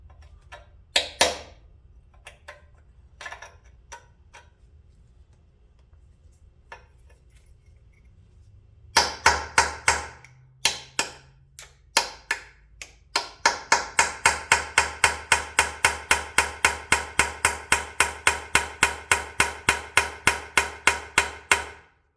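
Sharp metallic hammer blows on a heavy cast iron Perkins engine during disassembly, a few scattered strikes at first, then a long steady run of rapid, evenly spaced ringing hits, close and loud.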